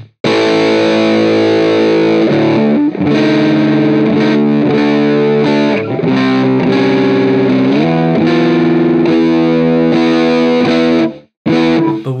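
Harsh, scratchy distorted electric guitar through an Amplitube amp simulator, played as loud sustained chords and riffs with brief breaks, heavily saturated and alone, with no talking.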